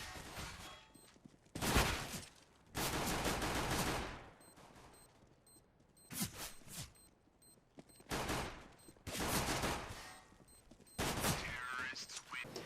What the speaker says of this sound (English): Luminosity started pretty good as well, with an awesome gun round by FNX